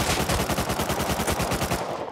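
Rapid automatic gunfire rattles loud and close in a PS5 console game during a raid defense, a dense sustained burst of shots that stops abruptly near the end.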